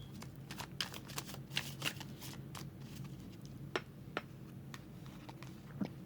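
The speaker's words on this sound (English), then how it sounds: "I still shuffle the cards and let divine take it out" Tarot cards shuffled by hand up close, a steady run of crisp papery flicks and light taps with no talking.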